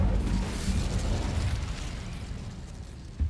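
The Incendio fire spell bursting in Hogwarts Legacy, a dense roaring whoosh of flame close up that holds for a few seconds and tapers slightly.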